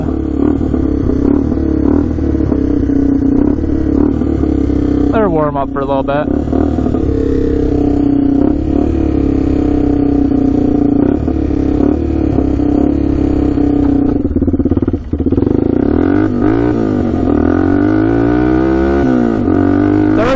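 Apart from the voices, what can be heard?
ATV engine idling with loud exhaust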